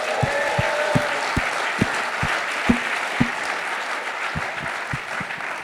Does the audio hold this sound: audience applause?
yes